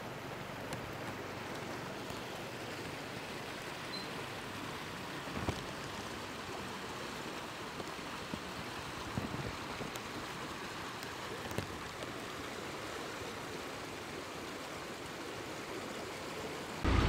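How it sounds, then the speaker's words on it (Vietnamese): A mountain stream rushes in a steady, dense wash of water noise, heard at a landslide rescue site in a Lao Cai village. The flow holds an even level throughout, with no voices. "nhìn theo dòng suối"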